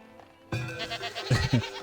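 Goats bleat in the farming village of Farthest Frontier, a few short, close calls breaking over a low ambient bed of game sounds.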